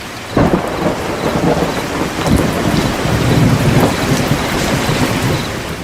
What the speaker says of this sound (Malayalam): മഴയുടെ ശബ്ദം എൻ്റെ കാതിലിരമ്പുന്നുണ്ട്